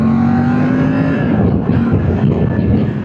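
A 2025 Triumph Tiger 900 Rally Pro motorcycle engine and exhaust in its Euro 5+ configuration, loud, close and gruff, with a steady droning tone that shifts in pitch partway through.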